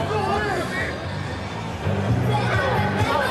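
Small but lively crowd at a Crusaders rugby match against the French Barbarians, a murmur of chatter and babble with nearby voices talking over it.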